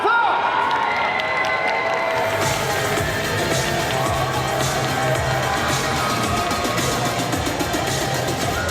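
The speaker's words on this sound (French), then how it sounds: "On l'applaudit bien fort!" A convention hall audience at a solo cosplay contest claps and cheers loudly and steadily for a performer taking the stage, a dense wash of applause with crowd noise throughout.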